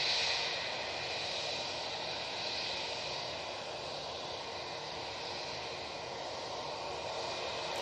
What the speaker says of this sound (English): we have British Airways shuttle now going to Heathrow. Just coming down Victor Alpha in front of me